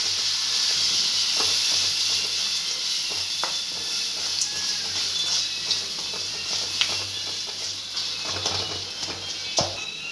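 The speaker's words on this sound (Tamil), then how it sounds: "நல்லா வதங்கிடுச்சு மசாலாலாம்." Masala and mutton masala spice powder sautéing in a pan for a soya chunk gravy, giving a steady soft hiss and sizzle with occasional small pops and crackles, close and continuous with no talking.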